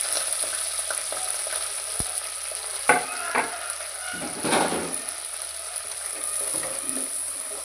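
Onions and chicken frying in a pan with cumin, mint and green chillies, a continuous close sizzle with a few spatula scrapes and knocks.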